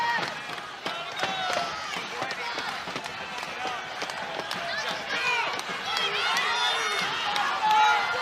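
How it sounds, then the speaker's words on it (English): Spectators at a college wrestling match in Knights Hall cheer and shout as a long-time Bellarmine wrestler trails late, a loud sustained crowd roar swelling toward the end, with commentary talking throughout. "Crowd getting behind their long-time knight."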